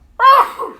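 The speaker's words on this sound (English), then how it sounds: "I'm going to sneeze again." A single loud, sharp sneeze from an adult indoors, bursting suddenly out of near silence and trailing off quickly.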